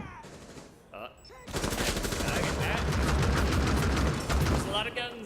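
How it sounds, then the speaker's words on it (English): Dense, continuous automatic gunfire from Rainbow Six Siege, loud and sustained after a brief quieter lead-in, with faint voices mixed underneath. "There's a lot of guns. A lot of gunfire."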